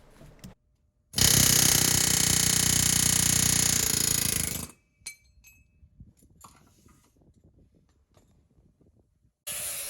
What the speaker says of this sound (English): So here I am again with that awesome air hammer, moving the brake line brackets.